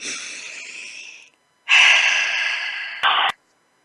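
A person takes a deep breath close to the microphone: a long, airy inhale, a brief pause, then a fuller, louder exhale that ends with a short, sharper puff of breath, in an otherwise quiet room.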